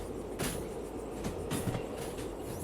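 A train in Derail Valley rolls steadily along the rails with a continuous low rumble, plus periodic clacks and brief metallic hisses from the wheels and cars.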